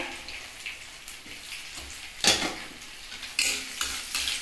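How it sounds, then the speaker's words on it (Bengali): Bay leaves and cumin seeds tempering in hot oil for mung dal, a close crackling sizzle with bursts of louder spitting and metallic clinks from a utensil against the pan. "প্রথমে দুটো তেজপাতা আর জিরে ফোড়ন দিচ্ছি।"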